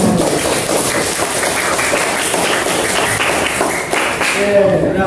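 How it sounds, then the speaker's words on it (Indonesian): A classroom of students claps together in a dense, continuous patter, loud and close, with children's voices mixed throughout. "Tepuk tangan buat kita semua."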